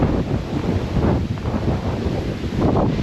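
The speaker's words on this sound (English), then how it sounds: "this is me trying to set up in a light gust of wind" Strong wind gusts buffet the microphone outdoors at a hammock camping event, a loud, continuous rumbling roar that surges and dips for several seconds with no talking.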